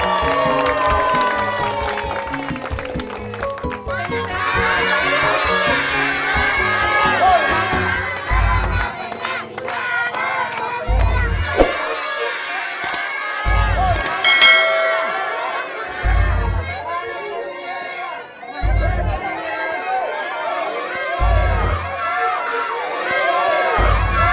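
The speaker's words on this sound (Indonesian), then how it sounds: "Tepuk tangan." A large village crowd at an Indonesian Independence Day contest prize announcement shouts and cheers loudly and continuously, with regular deep thumps pounding through the noise.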